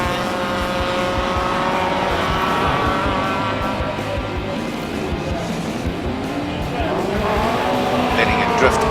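A Jaguar race car drifting through a corner at the Simola hillclimb, its engine loud and close with rising and falling revs and faint tire squeal, while a commentator talks over it.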